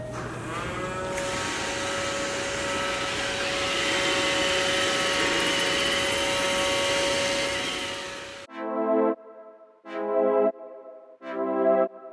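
A Roomba robot vacuum cleaner runs with a steady, loud motor whir for about eight seconds, then cuts off, followed by three short bursts of tonal beeping or chime-like sounds.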